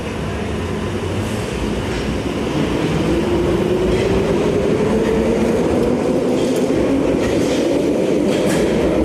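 A London Underground Piccadilly line train, one of the oldest tube stocks running toward Heathrow, roars steadily through a tunnel with a rising whine and rhythmic wheel clatter, loud and close, with no talk.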